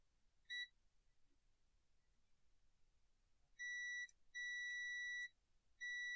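Multimeter in continuity mode, testing components inside an old Linksys router: a short high-pitched beep, a pause, then three longer steady beeps in close succession over a quiet background.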